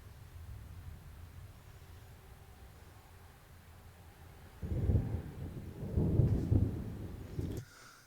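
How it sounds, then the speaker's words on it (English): Thunder in a music video, a deep rolling rumble that surges in midway over faint rain-like noise, swells for a few seconds and then cuts off. "I really love the sound of thunder"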